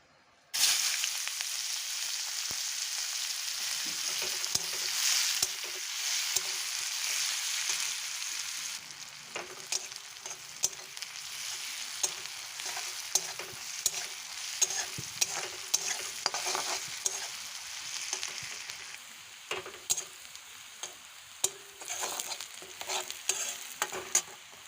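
Chopped onions fry in a pan while a spatula stirs them, giving a continuous close sizzle with frequent scraping clicks and knocks. The cooking is for a village-style deshi chicken curry, and no one speaks.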